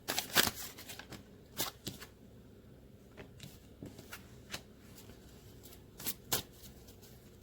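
A deck of tarot cards shuffled in quick bursts, riffled and tapped at close range in a quiet room, with short pauses between the flurries and no talking.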